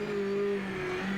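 An old GT500 race car in Project Motor Racing accelerates hard, its engine roaring loud and steady with a sustained droning pitch throughout the short burst.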